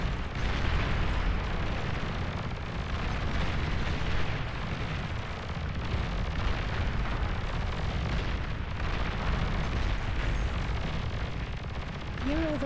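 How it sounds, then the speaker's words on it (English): An enemy commander unit blowing up in a strategy video game, a dense, roaring wall of explosion and rumbling blasts that holds loud and steady for about twelve seconds. "Enemy commander destroyed."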